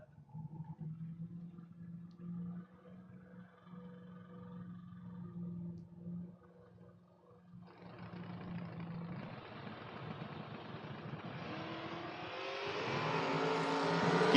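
Drag race cars, including a Camaro, at a 2024 FRBR Independence Showdown event: a low distant engine drone swells partway through into a rising, roaring engine howl that grows louder toward the end.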